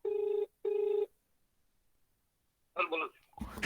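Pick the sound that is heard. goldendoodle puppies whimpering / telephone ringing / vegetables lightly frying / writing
telephone ringing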